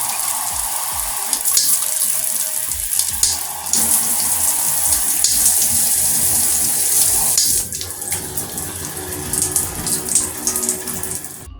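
Water sprays steadily from a SparkPod 6-spray handheld showerhead in Egyptian gold, a continuous loud hiss with slight shifts in texture partway through.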